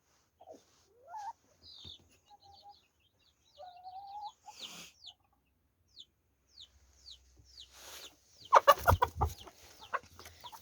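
A laying hen clucks in short, scattered calls and a few drawn-out notes, close by and fairly quiet, with rustling and a burst of louder flapping or scuffling near the end.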